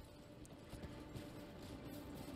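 Horse hooves clip-clop steadily and fairly close in Elden Ring, a fast even trotting beat over a dense game soundscape, with no voices.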